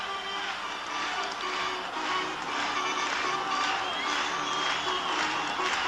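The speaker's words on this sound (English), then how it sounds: "So the crowd having come to life in the sixth inning." Baseball crowd at a 1980 Royals ALCS playoff game rises in the bottom of the sixth inning, a steady loud roar of cheering and applause filling the stands without a break, with no talk on top.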